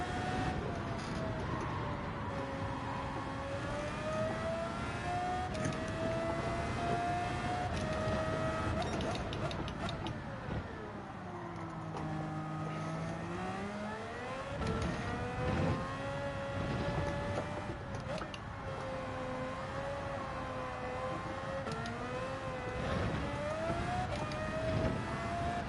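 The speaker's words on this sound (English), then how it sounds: "Listen to that noisy V12 roar." V12 engine of a 1990s-style GT F3500-A racing car in Gran Turismo 7, roaring loud and steady throughout with rising and falling pitch as it revs up and down through gear changes.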